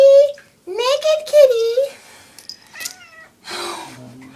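A Bengal cat meows repeatedly at close range, with loud drawn-out wails during a bath, while someone talks to it in between the cries.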